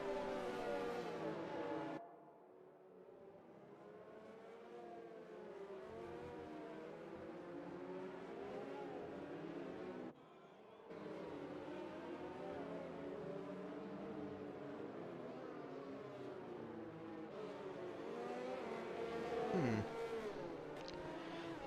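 F1 race cars from a PC racing game round at the Russian Grand Prix, with continuous high engine whine rising and falling through gear changes, sustained and fairly loud, briefly dipping twice, without voices.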